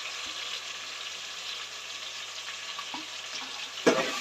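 Tomatoes and green chillies stirred and sizzling in a pan for fish curry: a steady, soft frying hiss with a few faint spoon scrapes and a sharper clatter near the end.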